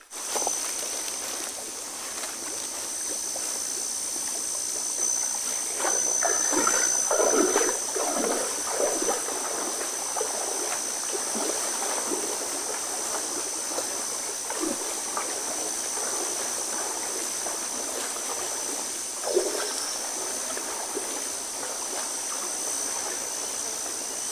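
A waterfall near a forest campsite, heard as a steady broadband rush of falling water throughout, with a few soft footsteps and handling noises over it and no talking.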